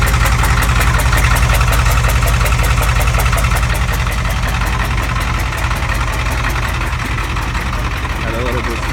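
A 1994 Ford F250 with a 7.3 IDI diesel and straight pipe idles after a cold start at 39 degrees, giving a loud, steady, rhythmic clatter throughout while someone talks over it.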